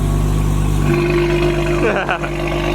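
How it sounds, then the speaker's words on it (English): A deep engine rumbles steadily with a low drone, then revs rough and uneven near the end, heard close up with faint voices in the background. "Kind of sounds a little bit like a truck on cold start"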